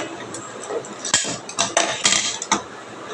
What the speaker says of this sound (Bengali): প্রেশার কুকারটা আমি নিয়ে নিলাম